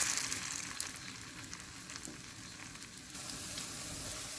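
Slices of bread frying in hot oil for French toast give a steady, close sizzle. The hiss holds at an even level with small crackling pops and turns slightly brighter near the end. No one speaks.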